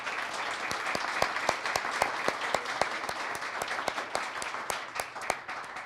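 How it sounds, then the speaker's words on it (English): An audience at a mental health town hall gives one more round of applause: a soft, somewhat distant mass of clapping, with individual sharp claps standing out at irregular moments throughout. "Please give them one more round of applause."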